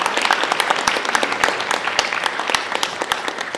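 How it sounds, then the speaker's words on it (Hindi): A theatre audience at a Hindi stage play applauds the backstage crew, with dense, steady clapping from many hands that fills the hall. "उन लोगों के लिए जोरदार तालियां"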